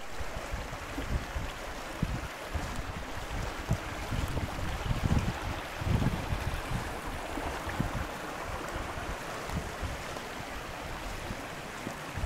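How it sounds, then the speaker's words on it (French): A forest stream in the Ardennes flows in a steady broadband rush of water, with gusts of wind buffeting the microphone and no voices. "Marcher le long d'un ruisseau."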